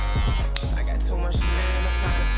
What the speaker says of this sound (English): Take a shaver and bald it out.